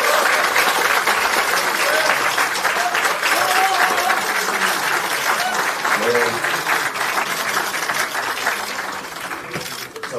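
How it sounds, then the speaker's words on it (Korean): Sustained, loud applause fills a Democratic Party caucus meeting hall, a dense wash of many hands clapping at once that holds steady for about ten seconds, with a few voices faintly audible beneath it. "먼저 크게 박수 한번 치고 시작할게요"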